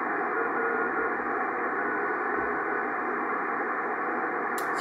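Shortwave radio reception of the Itupsat 1 amateur satellite CW beacon on an Icom IC-R8500 receiver, heard as a steady wash of hiss and static throughout with no clearly distinct Morse tones emerging.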